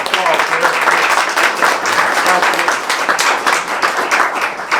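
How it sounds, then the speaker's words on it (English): Loud, dense clapping from an audience, sustained throughout with a few voices mixed in. "let's give her applause for"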